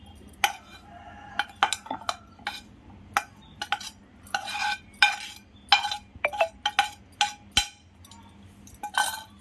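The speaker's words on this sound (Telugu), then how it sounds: "జామకాయ ముక్కలు వేసి మెత్తగా దంచుకోవాలి." Guava pieces, green chillies, tamarind and salt being pounded into chutney in a stone mortar, heard as a steady series of close, sharp knocking and clinking strikes at an uneven rhythm, with no talk.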